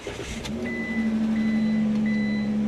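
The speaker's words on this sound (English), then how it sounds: "I'm going to start up the vehicle just to demonstrate the 12 volt" A Class B or C motorhome engine starts up, with a brief crank followed by a steady idle hum and a tonal whine, running close and moderately loud.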